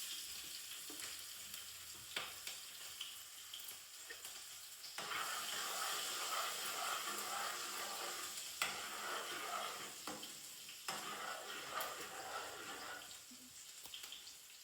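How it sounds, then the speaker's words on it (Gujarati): Chillies crackle in hot oil for a dahi tikhari, a bright continuous hiss and spatter that swells when they are stirred, with occasional spoon taps against the pan and no voices. "હવે આપણે એમાં મરચાં એડ કરી દઈશું પહેલા."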